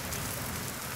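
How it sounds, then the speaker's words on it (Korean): Heavy rain pouring steadily during a thunderstorm, a dense continuous hiss and patter of drops on surfaces with no distinct thunder crack, fairly loud and uniform throughout. "지금 천둥 치고 비가 오고 번개 치고 엄청나요."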